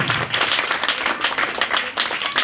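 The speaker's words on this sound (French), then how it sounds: "Nous allons les applaudir. On les applaudit," Steady audience applause at a school celebration honouring students, a continuous wash of many hands clapping at moderate loudness, with no distinct voices over it.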